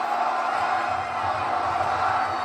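Wrestling crowd at a live event in St. Louis roaring in a steady, dense wall of cheering and shouting that holds throughout, loud and close, with a low rhythmic rumble underneath.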